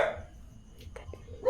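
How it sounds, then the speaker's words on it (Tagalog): A dog barks outside an abandoned house, a few short faint barks at a distance over quiet background rumble. "May aso sa galabas guys. Kaya marinig nyo may aso."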